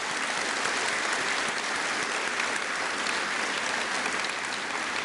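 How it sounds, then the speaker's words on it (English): An audience at an opening ceremony gives a sustained round of applause, a dense and even patter of many hands clapping together for several seconds with no speech over it. "I would like to give them an individual round of applause"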